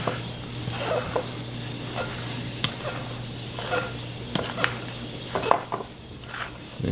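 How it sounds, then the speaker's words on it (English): Spoon stirring liquid into dry ingredients for biscuit dough in a bowl, repeated clinks and scrapes against the sides in an uneven rhythm, close and fairly loud with no talking. "And I'm just gonna start stirring"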